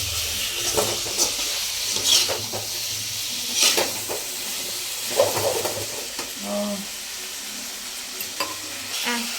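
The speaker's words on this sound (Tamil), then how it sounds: "இது போட்டு கொஞ்சம் நேரம் அப்படியே வறுக்கணும்" Mutton fries in a pan with fennel powder under a continuous close sizzle, with repeated spoon stirs and scraping clatters against the pan at irregular intervals.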